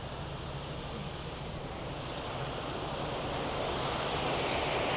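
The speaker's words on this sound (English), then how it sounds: "all the water will drain straight into the next lock chamber" Continuous broad rushing of water draining from a canal lock chamber into the next one, a steady roar that swells slightly louder toward the end, with no talk.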